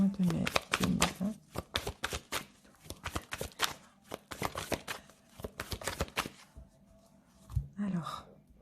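Tarot cards being shuffled and cut by hand, a rapid run of crisp riffling slaps and flicks in close, dense bursts, with brief pauses and a few soft thuds as the deck is squared.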